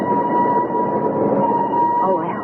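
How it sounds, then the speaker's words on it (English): A train in a 1970s gothic radio drama set in Scotland, heard as a steady, loud rumble with a sustained whistle-like tone running through about two and a half seconds. "Oh, I hope he's on this train, Uncle Flax."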